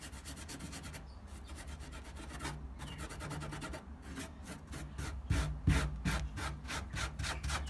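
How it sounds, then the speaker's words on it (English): Fine wood shavings rubbed by hand into the cracks of pallet wood for a barn door, giving a steady, close, rhythmic scratchy rubbing with repeated strokes that grow slightly louder toward the end. "I'll take some of the finer shavings and I put it over the top like so. And literally I just rub it in."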